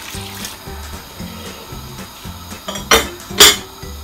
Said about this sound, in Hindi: अभी हम इसमें जो आधा पानी और था वो शामिल करते हैं।